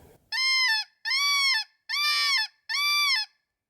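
A bear call blown hard gives four evenly spaced, loud, nasal honks that sound much like a goose, each about half a second long, with no talk over them.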